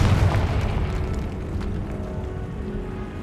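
The Confringo fire spell explodes in the video game Hogwarts Legacy with a loud, deep rumbling boom that rolls and slowly fades over a few seconds, with no talk.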